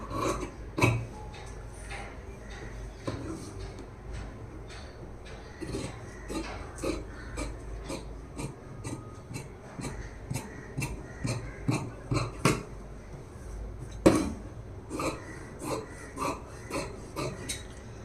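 Scissors cut through blouse fabric, a long run of sharp, close snipping clicks at an irregular, fairly quick rhythm with short pauses, with no talk over them.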